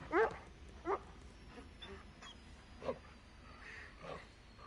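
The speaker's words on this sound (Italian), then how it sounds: "Ecco qui, il cane, il doggo" Dog barking and whimpering in an Ace Combat 7 video game cutscene, two sharp yips near the start followed by fainter whines over a quiet background.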